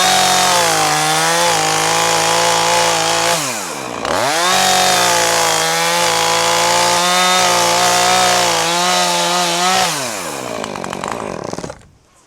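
A heavy chainsaw cuts through wood near at hand, its engine droning loudly and steadily, dipping briefly mid-cut before revving back up, then winding down at the end.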